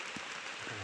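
Rain falling outdoors in a steady soft patter, a close, even wash of drops with a sharp knock at the very end.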